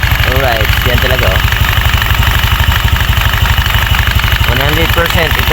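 A motorcycle engine idles steadily and close by with a loud, continuous low rumble, while someone talks over it in places.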